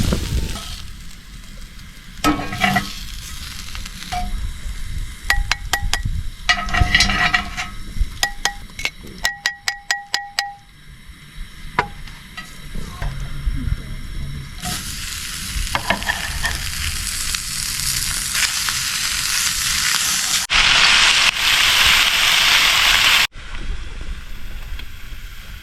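Onions frying in a pan in the back of a truck, a continuous close sizzle with clattering stirs and a run of quick taps, swelling louder near the end with some outdoor wind.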